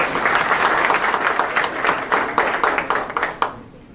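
Applause from an audience at the launch event of an Algerian young chamber of commerce in Canada, a dense continuous clapping that swells steadily and then tapers off near the end, with no voices standing out.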